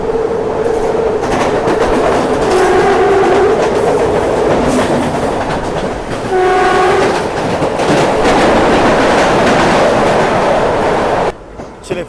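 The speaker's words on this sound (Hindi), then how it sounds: "चलिए फिलहाल अपनी गाड़ी पहुंच रही है रत्नागिरी रेलवे स्टेशन" A Tejas Express train rolls into Ratnagiri railway station: a loud, steady rumble of wheels and carriages throughout, with clattering rail joints and several brief horn-like tones over the running noise.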